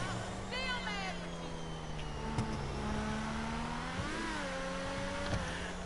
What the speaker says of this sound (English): This thing like sounds like a jet engine when it's slowing down.